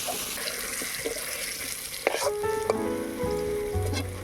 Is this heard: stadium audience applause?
no